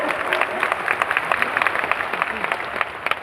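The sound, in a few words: audience applause welcoming the Chhattisgarh governor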